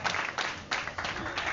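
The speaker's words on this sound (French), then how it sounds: "Applaudissez" Audience applause at a festive community event, a crowd clapping in uneven bursts with a few swells, moderately loud and steady throughout.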